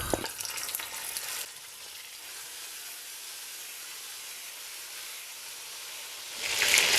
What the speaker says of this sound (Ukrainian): Добре розігріваю сковорідку з рослинною олією і будемо смажувати тут стегенця.